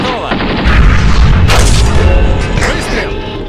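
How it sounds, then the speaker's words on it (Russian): A high-explosive round fires from a tank cannon in a tank simulator video game, a loud booming blast with rumbling low-end decay, while crew members call out loudly over it. "Фугасным! Готово! Выстрел!"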